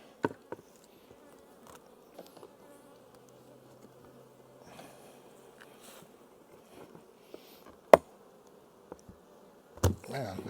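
Honeybees from a strong triple-deep hive colony buzz in a soft, continuous drone, broken by a few sharp clicks and knocks from handling the hive boxes.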